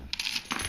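A short burst of metallic jingling from a set of keys, close and bright, in two quick clusters.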